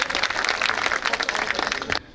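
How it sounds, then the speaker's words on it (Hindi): A political rally crowd at a Ratangarh public meeting applauds to welcome a new BJP member, dense steady clapping from many hands that cuts off abruptly near the end. "तालियों के साथ इनका स्वागत करें"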